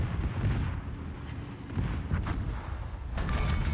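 Secondary guns of the Tirpitz battleship firing in the World of Warships naval video game, a continuous low rumble of repeated cannon booms at mid distance with no voices.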